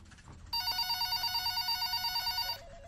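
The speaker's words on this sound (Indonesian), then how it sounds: "Ada telepon tuh Mbak" Telephone ringing in an indoor scene, a bright electronic trilling ring that sounds steadily for about two seconds, fairly close, with no one speaking over it.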